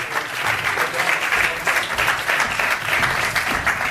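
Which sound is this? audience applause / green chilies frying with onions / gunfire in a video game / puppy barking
audience applause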